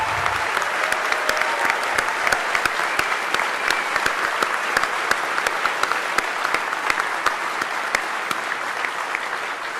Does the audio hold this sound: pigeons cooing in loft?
no